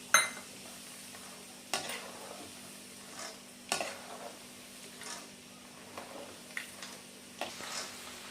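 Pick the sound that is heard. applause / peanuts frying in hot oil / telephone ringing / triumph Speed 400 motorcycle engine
peanuts frying in hot oil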